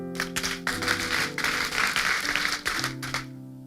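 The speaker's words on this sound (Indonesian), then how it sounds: "Kasih tepuk tangan untuk Tuhan." A church congregation claps loudly and continuously for several seconds, dense and close, while sustained music plays underneath.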